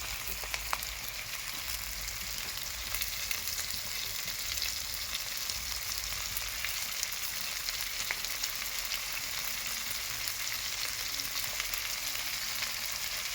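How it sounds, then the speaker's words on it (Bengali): Onions fry in a black iron wok over a stove, giving a continuous dense sizzle that stays close and even throughout, with no voices. "পেঁয়াজগুলো ভাজবো"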